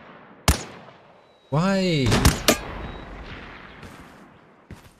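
Gunfire in the shooter game Lost Light during a raid on Mt Akiyama: a sharp single shot, then a loud stretch of firing and a booming blast, with a faint later shot and a short spoken word.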